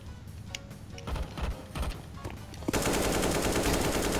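Automatic rifle fire in Counter-Strike: Global Offensive, a sudden loud sustained burst of rapid shots breaking in after scattered quieter clicks and thuds.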